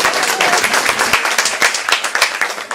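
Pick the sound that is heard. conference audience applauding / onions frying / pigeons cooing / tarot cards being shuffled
conference audience applauding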